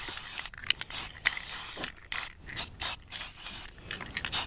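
Gold glitter spray paint blasts from an aerosol can in rapid close hissing spurts, broken by short gaps and occasional clicks of the nozzle.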